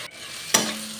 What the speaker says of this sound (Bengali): ডালটা একটু ভেজে নিতে হবে, ঘ্রাণ না আসা পর্যন্ত ভাজতে হবে।